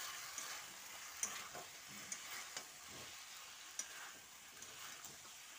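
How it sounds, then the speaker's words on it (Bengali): Potatoes and cauliflower fry with turmeric, cumin and Kashmiri chili powder as a spoon scrapes and taps in the pan, a faint, soft sizzle under gentle stirring. "মশলাটা দিয়ে একটু ভালো করে মিশিয়ে নিচ্ছি।"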